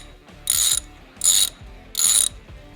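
Ratchet loosening T45 screws on the foot mount of a Harley-Davidson Softail, three quick bursts of sharp clicking in a steady rhythm, close and clear.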